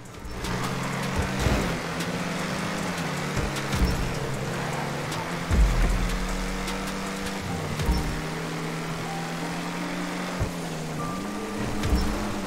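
Racing game car (GTA Online) driving through rain, a steady engine drone with shifting pitch and a wash of rain noise running throughout at moderate level, with no talk.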